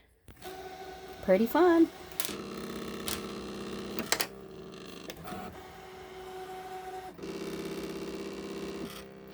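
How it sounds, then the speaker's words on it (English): A Brother ScanNCut SDX225 cutting machine cutting out images, its motor whirring and carriage moving in steady mechanical passes with short pauses, close by, with a person briefly speaking. "So you'll push start here. And then it'll cut it out."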